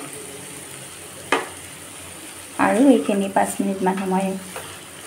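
Steady sizzling of bamboo shoots, green chillies and boiled chickpeas frying in a pan, with a short clatter and a person speaking briefly over it.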